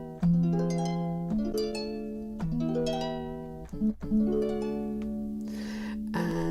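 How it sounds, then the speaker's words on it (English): Sustained harp-like tones from a keyboard app on an iPad play a slow sequence of notes and chords, bright and resonant, each held before changing, with no voices. "The harp is a little bit of a different sound."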